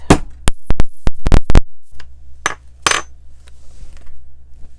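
A hammer drives a metal eyelet into a paper folio in a craft project: a close, quick run of about eight sharp metallic taps in the first two seconds, then a low steady background hum.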